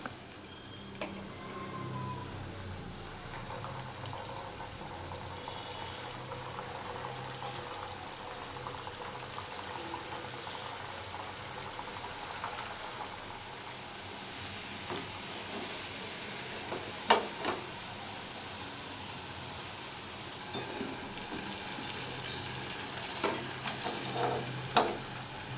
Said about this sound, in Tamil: இதே மாதிரி எல்லாத்தையும் பொரிச்சு எடுத்துடலாம்.